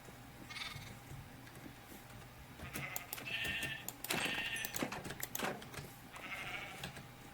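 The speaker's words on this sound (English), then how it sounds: "So looks like I need to kill some sheep." Sheep in a video game bleat in several short, close calls spaced across the clip, with small clicking game sounds in between.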